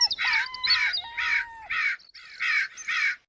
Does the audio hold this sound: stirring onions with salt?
no